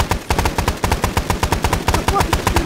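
Automatic gunfire from the video game Arma 3, loud and close, fired in rapid, evenly spaced shots that run without pause for the whole stretch.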